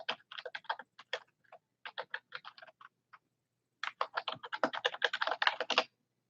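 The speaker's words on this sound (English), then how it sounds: "I bet this typing is loud probably." Typing on a computer keyboard during a livestream, quick bursts of close, crisp key clicks, a pause, then a faster, denser run of keystrokes.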